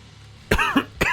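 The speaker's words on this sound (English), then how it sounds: "With slightly more coughing" A person coughing, two short, sharp, close coughs about half a second apart following a brief quiet stretch.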